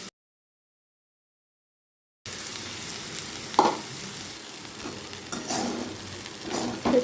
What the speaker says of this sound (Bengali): তো চিড়েগুলো অ্যাড করে নাড়াচাড়া করে নিচ্ছি